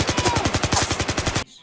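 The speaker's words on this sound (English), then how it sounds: "The gunner has control over a video game staple, an infinite ammo machine gun." Rapid automatic fire from a tank's infinite-ammo machine gun in the VR shooter Pavlov, a steady stream of close, loud bursts roughly a dozen shots per second, cutting off abruptly into near silence.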